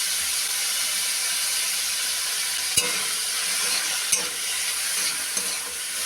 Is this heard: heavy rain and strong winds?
no